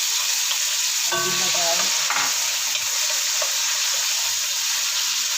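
Garlic, onion and tomato sautéing together in a pan, with a loud continuous sizzle, a brief stretch of stirring and scraping, and a short spoken remark early on.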